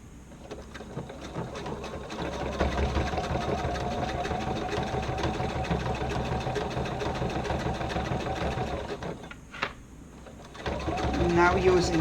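A sewing machine runs a triple stitch on a shoulder bag, a steady close mechanical whirring rattle that carries on for most of the stretch, briefly pauses, then resumes.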